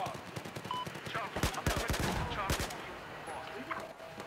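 Bursts of rapid gunfire in Battlefield 4 on Xbox One, several volleys of shots cracking close and loud over a busy battlefield background, with a voice talking faintly.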